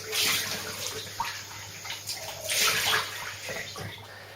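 Water running steadily from a tap while someone rinses off after a wet shave, a soft hissing flow with small splashes and gurgles, fairly quiet and close.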